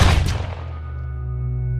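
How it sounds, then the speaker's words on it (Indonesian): A single loud gunshot-like boom bursts at the start, followed by a lingering low ringing tone as it fades. "Frank pun menghajar Lazarus dengan sebuah tembakan telak"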